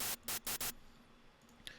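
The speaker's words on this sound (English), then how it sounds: "White noise is every frequency being played at the same loudness at the same time." Bright white noise from the Serum synthesizer's noise oscillator plays in four short, loud bursts, evenly spaced, each cutting off cleanly before a quiet tail.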